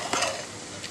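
Potatoes frying in a pan for potato rice, a short hissing sizzle with a quick scrape of stirring, close and alone.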